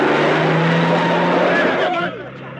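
A car pulls away with a loud, close engine roar that holds steady and then fades as it drives off, with voices and background sound mixed in.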